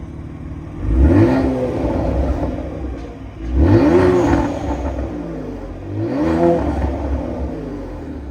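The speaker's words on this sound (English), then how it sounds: "Go ahead and rev it for you guys real quick." A 2023 Kia Stinger GT2 AWD in sport mode, its turbocharged engine revved hard three times: each loud, rising roar swells and falls back to a steady idle between bursts, with no talking.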